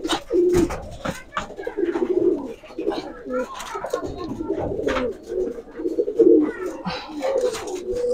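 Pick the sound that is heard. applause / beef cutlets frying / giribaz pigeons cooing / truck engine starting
giribaz pigeons cooing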